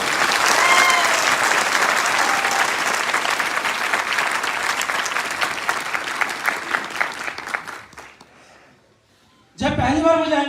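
Loud, dense audience applause at a Hindi-language gathering honouring a creator of a system, sustained for about eight seconds before fading away; after a short lull a voice begins speaking.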